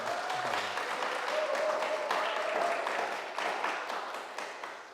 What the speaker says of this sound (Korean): 여러분 다시 한번 박수 한번.